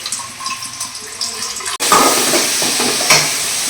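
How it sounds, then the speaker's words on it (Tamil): Soaked tamarind water is poured through a strainer into a hot pan while making pulikuzhambu, a faint trickle that turns into a sudden loud, steady sizzling splash about halfway through. "புளி கரைசல் ஒரு எலுமிச்சை பழம் சைஸுக்கு புளி எடுத்து கரைச்சி வச்சுருக்கேன், ஊற வச்சு. அதை இப்போ இதில் வடிச்சுக்கிறேன்"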